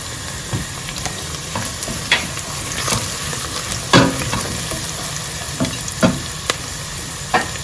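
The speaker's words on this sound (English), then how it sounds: "I'll go ahead and add the turmeric." Turmeric frying in a pan with shallots and garlic, a continuous sizzle broken by repeated scraping and clacking strokes of a utensil stirring, close and moderately loud.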